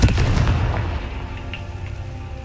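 A Confringo fire spell blasts in Hogwarts Legacy, a single loud booming burst that hits hard at once and then rumbles away over a couple of seconds, with no voices.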